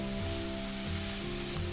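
Chicken and garlic sizzle and crackle steadily in a hot pan, close and continuous, with no talking.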